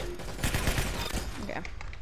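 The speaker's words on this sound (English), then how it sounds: "I can't shoot that far for that type of gun." Rapid bursts of video game gunfire crackle continuously through a short stretch of play, fairly faint and layered with other game sounds.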